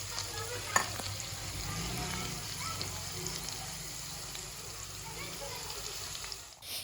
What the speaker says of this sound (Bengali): এই যে ফ্রাই হচ্ছে, ডিপ ফ্রাই করতে হবে।